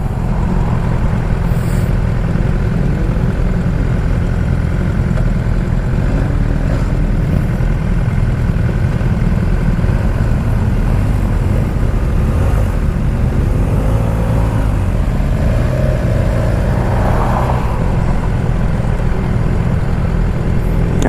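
A 2019 BMW S1000XR motorcycle engine runs steadily close by, a continuous low rumble that holds even throughout, with no voices over it.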